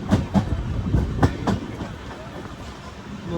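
Express sleeper train pulling into Byndoor (Mookambika Road) station, with rhythmic clickety-clack of wheels over rail joints and a steady rumble that eases over a few seconds, close and moderately loud.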